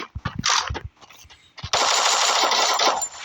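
Bursts of rapid machine gun fire in a zombie video game, first in short choppy volleys, then a sustained loud stream of shots, with game sound effects.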